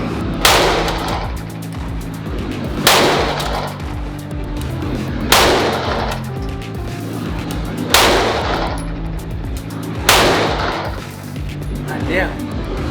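Five evenly spaced sharp, loud reports from a Glock 43x pistol fired at targets on a range, each about two and a half seconds apart, with steady background noise between shots.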